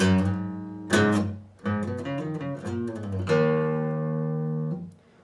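A guitar plays the third part of the second verse slowly, sustained clean chords and single notes ringing out in a few separate strums, each left to decay, with no talking.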